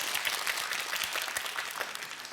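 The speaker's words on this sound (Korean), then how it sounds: "손에 박수 필요합니다." Audience applause on a Korean quiz show before the final round, dense continuous clapping from a studio crowd, steady and fairly loud throughout.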